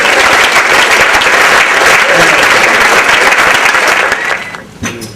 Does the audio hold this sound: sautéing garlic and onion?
no